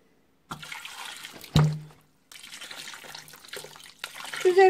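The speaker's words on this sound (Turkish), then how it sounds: "üzerine çıkacak kadar su koydum." Water poured over quinces in a cooking pot, splashing and trickling in uneven bursts with brief gaps and a sharp knock of the pot partway through, close and moderately loud.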